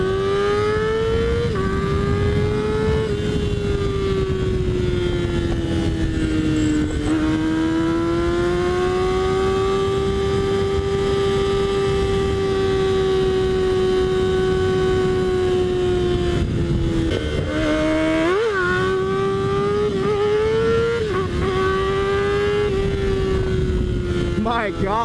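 A Yamaha R6 sport motorcycle engine revs hard and steady during power wheelies, its pitch rising and falling across the whole stretch with wind rush, close and loud, briefly dipping near the end before climbing again; a rider's voice cuts in at times.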